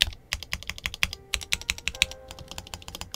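Typing on a MatthewTech MK80 mechanical keyboard: rapid, close, crisp key clacks in an uneven flurry with a few deeper thock-like strokes, played alone without talk.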